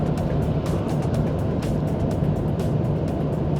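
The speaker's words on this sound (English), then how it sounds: "It's kicked down a bit because, as I said, I've got it in sports mode." A 2021 Kia Stonic GT Line kicks down a gear in sports mode, heard from inside the cabin as a steady engine drone under road and tyre rumble.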